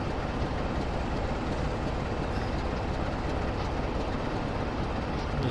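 A DMU train in Train Sim World rumbles steadily throughout, a constant close engine drone and rolling noise with no pauses or voices.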